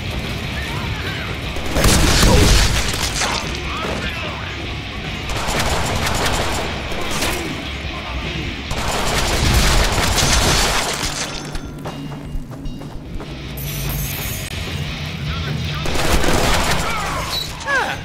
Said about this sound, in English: I am shooting you!